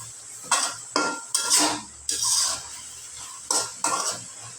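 Boiled leafy greens (shak) are stirred in a metal pan, giving about six separate scraping, clattering strokes of spoon against pan, close and moderately loud, with quiet pauses between them and no talking.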